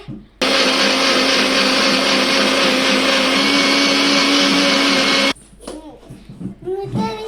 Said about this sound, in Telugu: ఇది ఇప్పుడు మిక్సీ వేయాలి